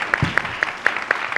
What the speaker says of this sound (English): if we can all give a round of applause to our three speakers this evening